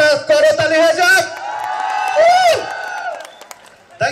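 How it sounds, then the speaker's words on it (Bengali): An audience at a Valentine's Day stage show cheers and claps, with loud whooping and shouting that mixes with a voice over the crowd noise. "রফিক ভাইকে অনেক অনেক ধন্যবাদ, তার জন্য একটা করতালি হয়ে যাক"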